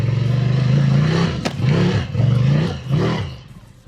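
A 2019 Ducati Scrambler on street tires climbs a small hill in the woods, its engine revving loud and close in several rising and falling throttle bursts.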